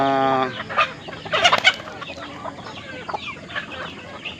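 Chickens cluck and a rooster calls, including feather-footed Brahma birds alongside Texas and Japanese Shamo breeds on a rural farm; a rough crow opens, followed by scattered close clucks and squawks over quiet yard noise.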